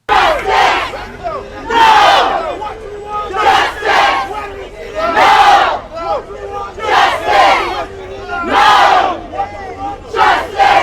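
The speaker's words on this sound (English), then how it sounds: "protesters felt that their plight was not being heard and took their chants and placards to the streets" Street protesters demanding justice chant in loud, rhythmic bursts, a crowd of voices shouting in repeated phrases that rise and fall roughly every second or two, close and forceful.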